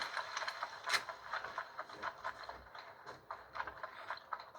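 Horse hooves clip-clop in a quick, uneven rhythm in Red Dead Redemption, with rattling cart and mechanical noises mixed in at moderate, fairly faint level.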